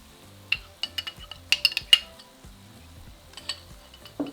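Chicken coated in spices for a korma is stirred in a pan: sparse spoon clinks and scrapes come in short bursts over a faint, quiet sizzle, with no talking.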